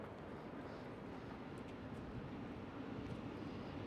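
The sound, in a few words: Emirates SkyCargo aircraft taxiing at Schiphol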